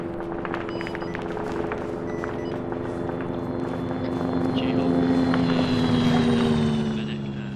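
An engine drones in the military video game Arma 3, with a steady, aircraft-like tonal hum whose pitch slowly shifts and whose volume swells slightly toward the end.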